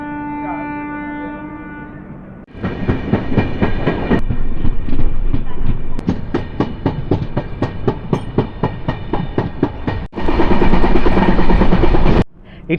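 A train runs along the Konkan Railway with steady rhythmic wheel clatter, loud and close, shifting in tone as it passes through tunnels, with sharp drops and surges in level.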